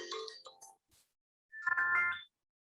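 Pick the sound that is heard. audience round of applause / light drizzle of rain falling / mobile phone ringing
mobile phone ringing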